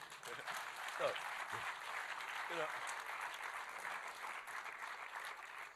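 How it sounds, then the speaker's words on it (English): Audience at a gala opening applauding steadily for several seconds, a dense wash of clapping with a voice briefly audible underneath. "Let's have applause."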